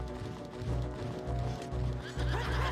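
A horse neighs repeatedly in Legend of Zelda: Ocarina of Time 3D, the whinnies riding over a steady game soundtrack with periodic clip-clop hoofbeats, loud and close.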